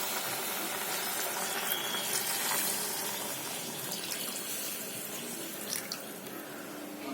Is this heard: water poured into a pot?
yes